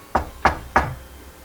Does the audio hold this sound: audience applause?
no